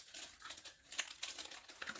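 A plastic bag wrapped around a handgun crinkles and rustles softly in irregular bursts while it is handled and pushed into a leather holster.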